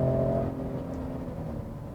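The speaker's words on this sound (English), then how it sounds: "I like the way this EcoBoost sounds, and the exhaust is pretty cool as well" A 2019 Ford F-150 Raptor's EcoBoost engine and exhaust hum with a low, rumbling drone that eases after a moment and then holds steady, with no voices.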